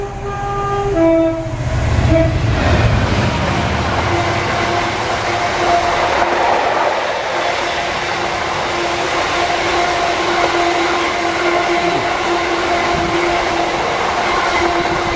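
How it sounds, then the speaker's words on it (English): Train passing through countryside near Wistow Rural Centre, opening with a horn blast that fades into a long, loud, steady rolling rumble of wagons going by close at hand, with no talking. "Train."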